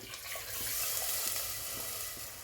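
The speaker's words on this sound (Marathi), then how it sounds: "भाजी तयार झाल्यावर आपल्याला जेवढं पाणी लागणार आहे तेवढं आपण पाणी घालून घ्यायचं आहे" Water pours into a pan of cowpea curry with a steady, faint rushing splash over a low sizzle, close by and without voices.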